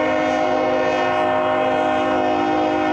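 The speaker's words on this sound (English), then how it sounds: "got this train interrupting my recording here." Train passing through a Chicago suburb sounds its horn in one long, loud, sustained chord that holds steady throughout, close by and dominating everything else.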